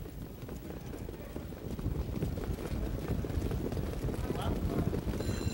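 At the start of a night harness race at the Meadowlands, a field of claiming pacers moves off with a rapid, rolling patter of hooves under loud, continuous race commentary and wind noise.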